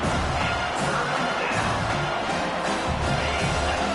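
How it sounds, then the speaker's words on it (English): Stadium crowd at a GTech football game roaring steadily for the defense on third down, a dense continuous wash of cheering with no breaks. "Decibels rising as the crowd gets behind this defense on third down."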